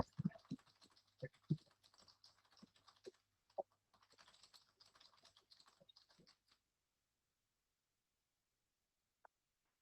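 Bursts of fast keyboard typing with a few heavier key thumps, close and fairly quiet, stopping abruptly before near silence and one last click.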